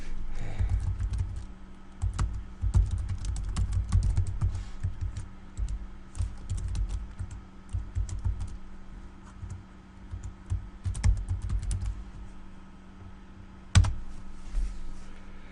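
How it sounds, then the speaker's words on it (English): Steady fast typing on a computer keyboard, a continuous patter of close key clicks with brief pauses and a louder tap near the end, while a poll is entered in conference room software. "you can just quickly type up"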